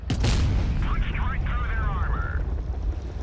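A T92E1 light tank's main cannon fires in World of Tanks Blitz: one loud, booming blast at the start with a rumbling tail, followed by a faint whistling sweep.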